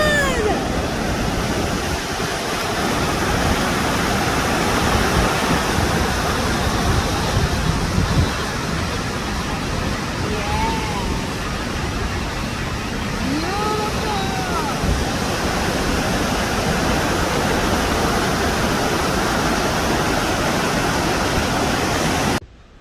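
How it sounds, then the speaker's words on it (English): Two-Step Falls waterfall in Minnesota, a steady broad rush of falling water roaring continuously and close, with a few faint brief sounds over it before it cuts off. "Okay, Two-Step Falls."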